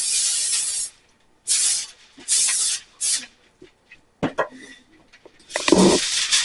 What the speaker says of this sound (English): we're going to spray our foil